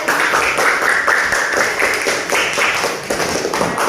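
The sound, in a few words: class applauding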